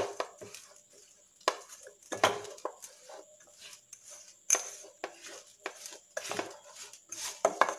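Laddu mixture with a little rock sugar being stirred in a pot, giving repeated close scraping and clinking knocks of a utensil against the vessel in an irregular rhythm, with no talking.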